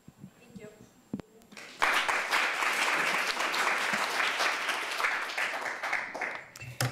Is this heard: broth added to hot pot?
no